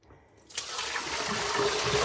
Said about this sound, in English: Right, let's get rid of the water.